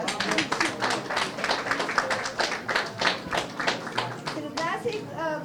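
Audience applause at an evening art event, a dense run of clapping hands with uneven rhythm that carries on throughout, voices and children's chatter mixed in.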